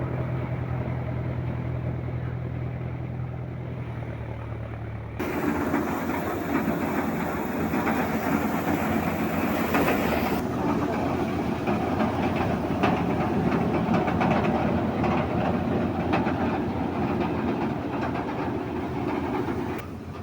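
A newly fitted farm machine for paddy work runs steadily in a village, giving a continuous, loud mechanical drone with a rattling, clattering texture. A sharper, louder layer joins after about five seconds and carries on to the end.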